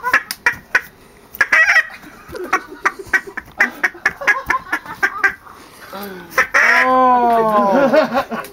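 Fowl-like birds quack and honk in rapid bursts close by, with a louder drawn-out call near the end, mixed with people talking over them outdoors.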